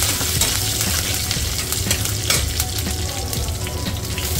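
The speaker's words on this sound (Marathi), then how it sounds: "आलं लसूण परतून झालं की त्यामध्ये आपण कढीपत्ता टाकून घेऊ." Ginger, garlic and curry leaves fry in hot oil with a busy, continuous sizzle and crackle, close up, with occasional sharper pops and stirring.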